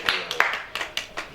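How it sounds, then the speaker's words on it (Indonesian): A small group at an Indonesian arisan gathering claps hands, about half a dozen sharp, scattered claps in a brief, uneven burst, fairly close and moderately loud. "Jadi Tepuk tangan."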